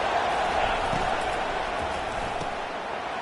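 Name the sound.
crowd noise at a football game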